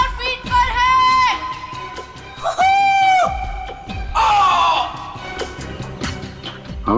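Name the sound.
man screaming during skydive in played recording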